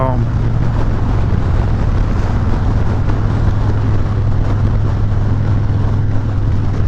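A 2019 Harley-Davidson Heritage Classic motorcycle, still in its break-in period, climbs in speed under throttle, a steady loud engine drone blended with heavy wind rush from riding, continuous throughout.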